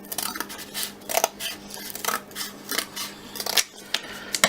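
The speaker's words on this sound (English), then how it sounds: "Cut it clean in half like that." Scissors cutting honeycomb cardboard in half for a candle stove wick, heard as a close series of crisp snips and crunches in an irregular rhythm with brief pauses.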